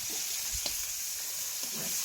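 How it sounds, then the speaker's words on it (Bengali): Spices sizzle and fry steadily in a pan, a soft continuous crackle with occasional stirring scrapes and no talk. "এই যে মোরা এখন মশলাগুলোর ইচ্ছে মতন কষাই লইতেছি"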